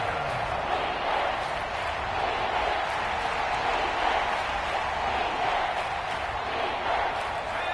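A packed stadium crowd at a Texans vs Patriots American football game roars steadily, a loud, continuous wash of cheering and noise that holds without pause for several seconds.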